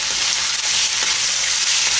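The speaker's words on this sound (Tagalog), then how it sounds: "I-gisa na rin natin yung pork." Pork sautés in a pan with onion, garlic and ginger, a loud, dense, continuous sizzle with no voices over it.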